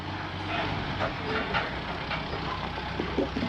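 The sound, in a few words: tractor engine running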